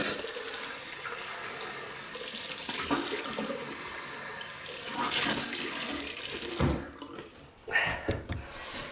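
Tap water runs steadily into a sink while rinsing off after a shave with an Edwin Jagger DE89L razor and Arko soap, a bright continuous splash that cuts off near the end, followed by a few scattered drips and splashes.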